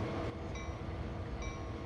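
A diesel locomotive rumbles along the Sand Patch Grade in Train Sim World 2, a steady low drone with faint tonal whines above it, no voices.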